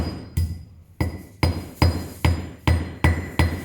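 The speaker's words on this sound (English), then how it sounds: "using pliers so that I'm not actually touching and handling that, and using a hammer, working from the narrow side" Hammer striking metal wire held in pliers on a drawplate, about nine sharp, ringing metallic blows at a steady, fairly quick rhythm, close and loud, each followed by a short clinking decay.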